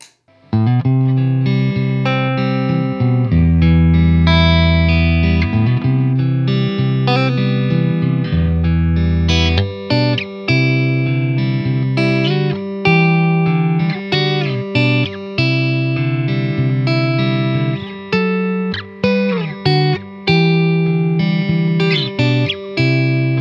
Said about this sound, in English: And here's the Klon KTR.